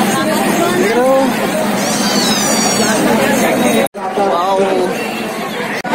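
Dense crowd chatter fills the Janmashtami fair in Raigarh, a steady hubbub of many overlapping voices close by, broken by a brief dropout near the four-second mark before the babble resumes.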